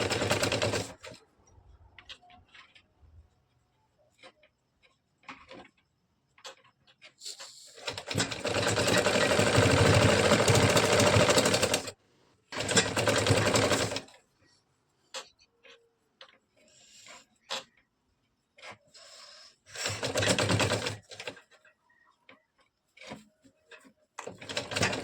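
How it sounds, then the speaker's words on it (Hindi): A sewing machine stitches a katori blouse in several long whirring bursts separated by pauses and small clicks and taps as the fabric is pulled through from behind, loud and near. "सिलाई गड्ढे में चलाना है और पीछे से खींचते हुए चलाना है।"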